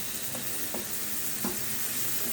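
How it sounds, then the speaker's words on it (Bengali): Onion frying in oil with salt makes a steady, moderately quiet sizzle, broken by a few soft scrapes of stirring. "সামান্য একটু পেঁয়াজটা ভাজা হয়ে গেলে"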